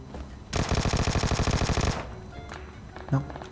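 Rapid automatic gunfire in PUBG Mobile, a fast, evenly spaced burst of roughly twenty close, loud shots lasting about a second and a half, followed by quieter action sounds and a short thud.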